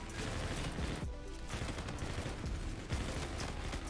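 SMG fire in Call of Duty Black Ops 3, dense rapid bursts filling the whole stretch with one brief pause, loud and close with no talking.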